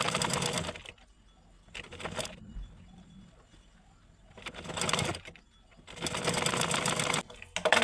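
Sewing machine stitching the sleeve of a cutwork blouse in several loud bursts of rapid whirring, separated by quiet pauses.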